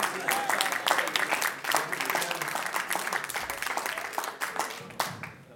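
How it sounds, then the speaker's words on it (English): Scattered applause from a poker event audience, individual claps distinct and uneven, moderately loud in a room, with some talk mixed in. "one more round of applause for Philip"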